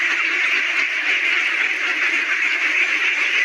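A flock of Khaki Campbell ducks on a river quacks in a dense, continuous chorus of overlapping calls, steady and fairly loud throughout with no speech.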